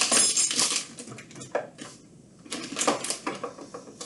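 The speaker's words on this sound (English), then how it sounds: "So next up, we want to add our white rice." Dry white rice poured into a glass jar, a bright rattling hiss of grains hitting glass in two bursts with a brief lull between, close and moderately loud, no talking.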